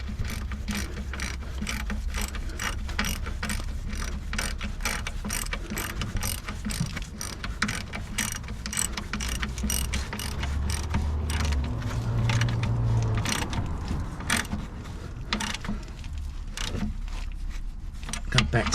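A hand ratchet tightening subframe crossmember bolts on a car clicks in fast, steady bursts, close up, with a voice talking now and then over the clicking.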